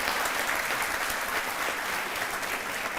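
A studio audience on the Aap Ki Adalat TV show claps loudly and continuously, a thick, even roar of hands with no voices over it.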